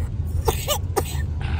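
A person with a lingering cough and itchy throat gives two or three short, throaty coughs close to the mic, spaced about half a second apart over a low background hum.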